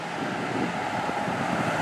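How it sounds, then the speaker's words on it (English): Steady wind gusting across an outdoor microphone near a temporary rock dam at a mill, a continuous loud broadband roar without breaks. "I don't wanna talk with the wind blowing"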